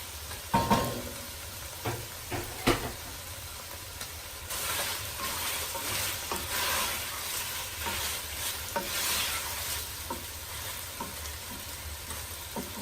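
Finely chopped ginger frying in a pan for chicken jalfrezi, a steady close sizzle interrupted by the scrape and clatter of stirring, with no talking.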